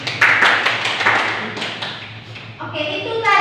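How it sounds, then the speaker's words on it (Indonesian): A class of students claps their hands in a classroom, a run of loud, close hand claps that thins out and is followed by a voice talking. "tepuk tangan untuk itu."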